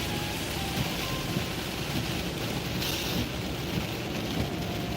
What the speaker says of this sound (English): So it's raining harder, removing visibility.